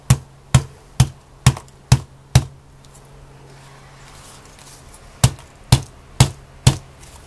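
A hammer strikes a metal foil tag on a hard surface in two bursts of evenly spaced, sharp, close taps, five then five, with a quiet pause between.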